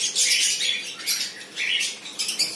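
Dense chorus of many small caged birds chirping and twittering at the Mirpur bird market in Dhaka, loud and continuous, bright high calls overlapping with brief swells of activity throughout.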